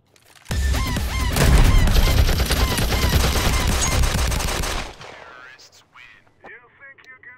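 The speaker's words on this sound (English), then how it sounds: "I was trying to shoot at Hefty." Rapid video game gunfire erupts in a loud, dense burst of automatic shots lasting about four seconds, then cuts off, leaving scattered faint game sounds.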